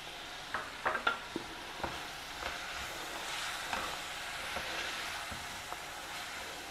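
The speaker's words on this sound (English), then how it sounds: "Stir fry all the vegetables together" Mixed vegetables and frozen peas stir-fried in a pan give a steady soft sizzle, with a few sharp spatula clinks near the start and light scraping after, close and fairly quiet, no one speaking.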